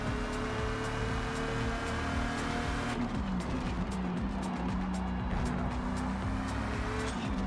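A race car in Forza Motorsport roars at full throttle after hard braking, a loud steady engine drone with tonal harmonics rising, continuous and close, with no talk over it.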